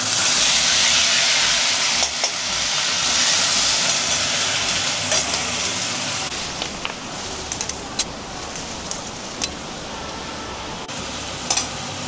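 Onion paste hitting hot oil after frying chara pona fish for a Bengali curry, a loud hissing sizzle that softens after a few seconds into a steadier crackle with scattered sharp pops.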